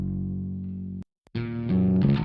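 Electric guitar driven through a Diezel VH4 amp model on a Kemper profiler for gritty top-end distortion: a sustained chord cuts off, then returns as a louder, brighter distorted strummed passage with buzzy overtones.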